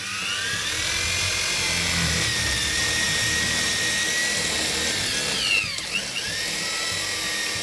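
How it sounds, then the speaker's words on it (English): A power drill drilling holes in a wall whines continuously at high speed, a steady loud grinding with a brief dip near the end. "I'm gonna start drilling right now and show you how to do it"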